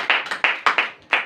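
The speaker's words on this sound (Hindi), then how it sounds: "वकार भाई के लिए जोरदार ताली।" An audience claps for a guest during an Urdu-Hindi religious talk, six or seven crisp, close hand claps in an uneven quick rhythm with no voices over them.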